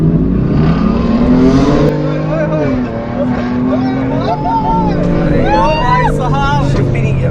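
A car with an exhaust rigged for Diwali firecracker-style bangs accelerates and revs while being driven. The engine drones loudly and rises in pitch, with voices faintly audible over it.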